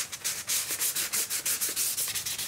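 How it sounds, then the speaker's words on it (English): A motorcycle radiator guard being scuffed by hand with 800 grit sandpaper, quick rhythmic back-and-forth rasping strokes, close and loud, about ten strokes with no talking. "I'm gonna sand it. I got some 800 grit sandpaper."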